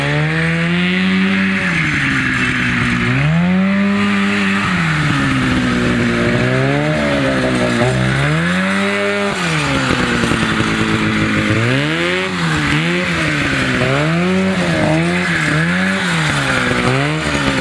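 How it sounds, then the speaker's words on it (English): Go-karts racing in a yard, small buzzing engines repeatedly revving up and backing off in rapid cycles, loud and close with overlapping whine. "Now we're gonna have to race this and the yellow go-kart to see which is faster."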